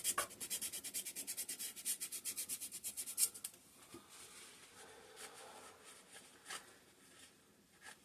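Old gasket material being scraped off a 5hp Briggs and Stratton small engine with gear reduction, a rapid run of rhythmic scratchy strokes, then slower, fainter intermittent scrapes, close and fairly quiet.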